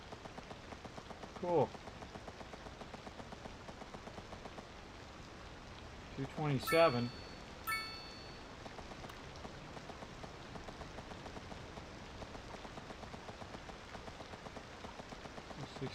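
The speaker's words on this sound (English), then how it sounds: "Oh, it's starting to rain." Rain falls in the Cities Skylines II city-building game as a faint, steady patter of drops, with someone briefly speaking over it.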